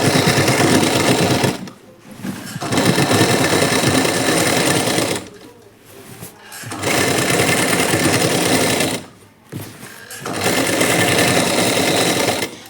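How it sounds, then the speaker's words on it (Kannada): A sewing machine stitches along the sides of a nightie in long, loud, continuous runs of rapid whirring, broken by a few short pauses, close up. "ಆ ಕಡೆ ಸೈಡ್ ಕೂಡ ಸ್ಟಿಚ್ ಹಾಕೊಳ್ಳಿ"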